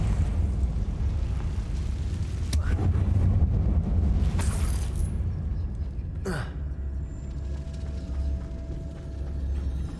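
In the video game Hogwarts Legacy, a Confringo fire spell goes off inside a tomb. A few sudden blasts and whooshing bursts rise over a steady low rumble of game sound.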